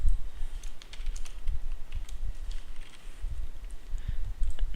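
Rapid clicking keystrokes on a computer keyboard come in uneven bursts as someone types code for a Minecraft Bukkit plugin. The typing is close and quiet, with no speech over it.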